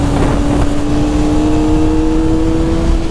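A 2023 Kawasaki ZX400RR engine holds a loud, steady high-pitched drone around 6,000 RPM, close up, with wind rush and no talk.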